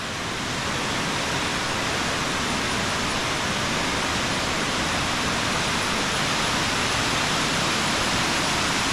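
Water rushing steadily down a stream beside stone steps near a rubber plantation in Idukki, Kerala, a dense, continuous broadband roar that stays close and even throughout with no voices.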